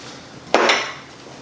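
A metal teaspoon knocks once against a sugar canister in a kitchen, giving a single sharp clink with a short ringing decay against quiet room tone.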